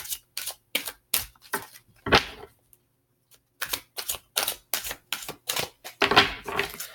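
Rapid bursts of crisp tarot card riffling and snapping, repeated in short clusters with brief pauses, close and clear with no voices.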